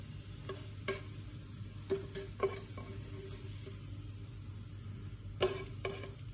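Plant burgers and burnt onions fry in a pan with a steady low sizzle, broken by a few sharp utensil scrapes and taps against the pan.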